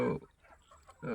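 Chickens being weighed at night on a poultry farm give two loud close squawks, one at the start and one at the end, with quieter clucking between them.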